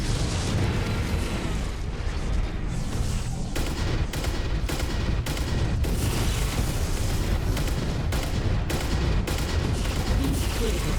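Incoming missiles burst in MechWarrior 5, with a dense barrage of booming impacts and sharp repeated blasts over a constant roar, loud and close throughout.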